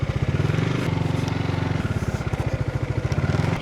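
A motorcycle engine sputters to life and settles into a rapid, pulsing idle, loud and close.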